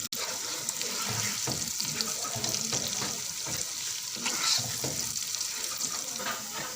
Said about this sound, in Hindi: ये सारी चीज़ें हम हल्की हल्की फ्राई करेंगे